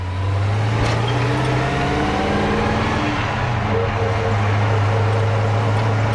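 A 1957 Chevy 150 engine with an aluminum four-barrel carburetor, heard from inside while riding along, its clutch slipping so the engine drone holds a steady low pitch that shifts partway through, loud and continuous with no talk.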